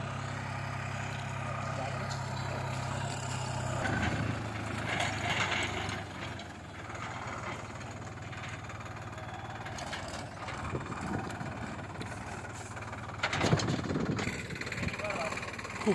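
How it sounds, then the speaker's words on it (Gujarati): A tractor approaches across a farm field where sesame is being sown, its low engine rumble droning steadily and swelling at times beneath ongoing talk. "આ આવી રહ્યું છે ટ્રેક્ટર, જુઓ આપણે."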